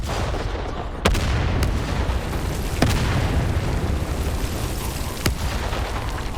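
Cannon fire in a Warhammer 40K Terminators video game mission, with several sharp booming shots spaced a second or two apart over a dense, steady rumble of battle noise.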